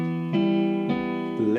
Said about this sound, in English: If we listen to the left hand pattern with sustain added, it would sound like this